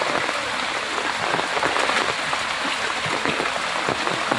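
Floodwater from the swollen Gurupura river rushing behind a house in Mangaluru during heavy rain, a dense, steady, close roar of flowing water with no talk over it.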